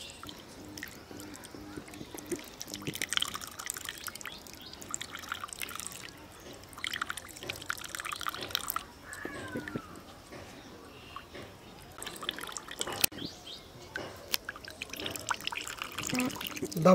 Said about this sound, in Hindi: इसको हम बढ़िया से निचोड़ के इसका पानी निकालेंगे।